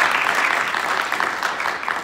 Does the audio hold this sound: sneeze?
no